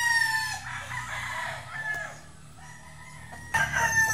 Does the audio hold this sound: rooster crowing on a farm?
yes